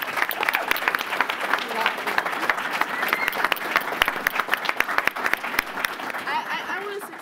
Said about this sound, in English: I just really want to give Tamika a round of applause for that.